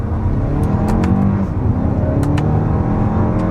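A 2023 Toyota Crown Platinum Hybrid MAX accelerates hard in first gear under paddle-shift control, with a steady loud engine and drivetrain roar over road noise, heard from inside the cabin.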